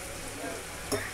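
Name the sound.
spices sizzling as tempering is fried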